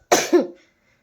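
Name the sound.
woman coughing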